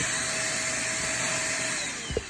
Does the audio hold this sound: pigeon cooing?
no